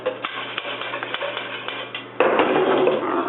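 Vegan gluten-free pancake batter is mixed in a bowl after baking powder goes in, giving a run of close, light clinks and scrapes against the bowl that turns into a louder, steady scraping stir partway through.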